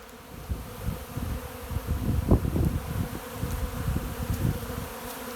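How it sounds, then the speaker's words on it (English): A swarm of bees buzzes over open dry pig feed in a pig pen, a steady dense hum with no talk, close and continuous. "my pig pen is a buzz of bees"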